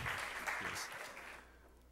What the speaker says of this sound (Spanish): Vamos a darle un fuerte aplauso al disertante de esta noche, el doctor Luis Báez del Rosario.